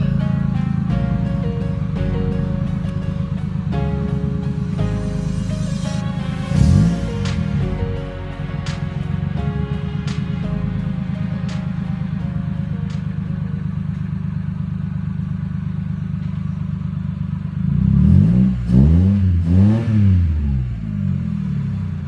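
A Mitsubishi Mirage that sat parked for about a week runs steadily after starting, a close, continuous idle with a couple of brief rev swells.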